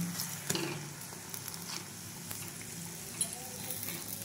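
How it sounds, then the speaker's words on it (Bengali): Kakra pithe, stuffed rice-flour dumplings, puffing up in hot oil, giving a steady close sizzle and crackle throughout with a few sharper pops. "দেখুন তেলে দেওয়ার মাত্র কি কত সুন্দরভাবে আমার পিঠেগুলো ফুলে উঠছে।"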